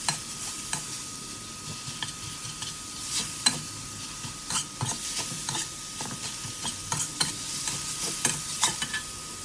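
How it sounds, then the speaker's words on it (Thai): Minced pork with lemongrass stir-fried until dry in a pan, brisk rhythmic scraping and clattering of a spatula over a steady sizzle, close and fairly loud, with no talk. "ผัดให้แห้งนะครับ"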